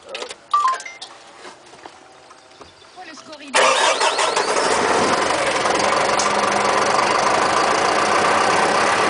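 The key turns in a red Renault P180 rigid truck: some quiet handling and a voice first, then the diesel cranks and catches. It settles into a loud, steady idle close by.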